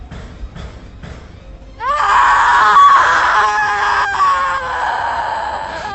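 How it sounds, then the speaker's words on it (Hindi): A cartoon ghost lets out a loud, shrill, sustained scream that starts abruptly after a couple of seconds of low rumbling background, holding strong to the end. "छलावा ने चीख मारी और अगले ही पल धुएं की तरह गायब हो गया।"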